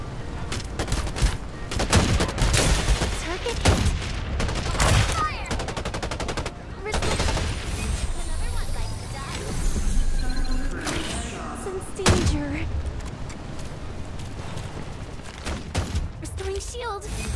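Gunfire in the battle game Farlight 84, with rapid bursts of automatic shots and heavy thumps crackling through a busy fight, loud and repeated across the whole stretch alongside game voice callouts.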